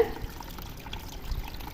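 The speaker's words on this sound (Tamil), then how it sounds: "இப்போ தண்ணி விடலாம் தண்ணி விடும் பொழுது அந்த கிழங்கு மேலே தண்ணி படாத மாதிரி ஒரு பக்கமாக கொடுங்க" Water poured gently into a pot of aquatic plants, aimed to one side to avoid wetting the tuber, making a soft, steady low trickle and splash at close range with no talking.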